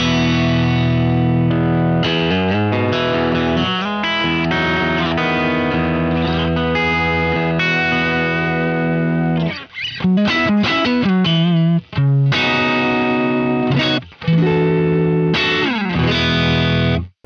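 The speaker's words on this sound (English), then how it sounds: "here's how this guitar sounds with no reverb and delay, just the amp" A T-style electric guitar plays loud, continuous chords and single notes straight through an amp, dry with no reverb or delay, with a few short breaks between phrases.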